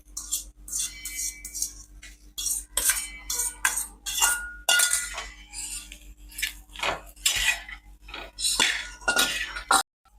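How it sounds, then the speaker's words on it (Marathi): Potato pieces go into a spiced pan and get stir-fried for dabeli-style kharda, with repeated scraping and clinking of a utensil against the pan in busy bursts throughout, fairly close and with no talking. "आता आपण बटाटे टाकून घेऊ त्याच्यामध्ये"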